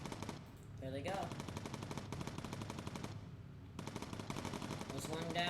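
Gun turrets blast away in the Bomber Crew video game: sustained rapid automatic fire in dense, loud bursts, breaking off briefly midway before resuming.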